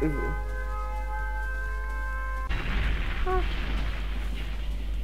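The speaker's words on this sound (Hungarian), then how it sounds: "Robbanást hallottam." A loud explosion bursts midway through a Roblox game scene, cutting off a sustained musical tone and leaving a rumbling, noisy wash with a few brief tonal blips, all over a constant low hum.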